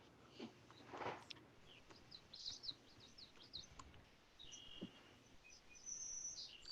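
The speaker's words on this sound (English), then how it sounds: "she probably hears a bird singing" Faint outdoor birdsong chirps and tweets in short repeated phrases, distant and quiet over a soft background hiss.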